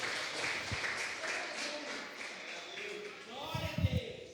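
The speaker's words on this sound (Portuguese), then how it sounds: "dê uma salva de palmas ao Senhor" Applause for the Lord rises from a church congregation during a worship service, a broad patter of clapping blended with voices and singing that swells toward the end.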